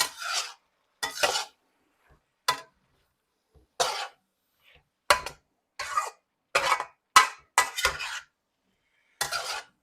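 Steak stir-frying in a Yosukata wok comes through as a series of short, separate metallic scraping and rasping strokes with quiet gaps between them, close to the microphone.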